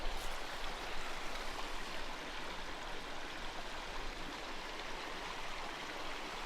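A stream rushes past an old mill house in the Umbrian countryside near Preggio, Italy, its steady, full-bodied watery hiss close and unbroken throughout.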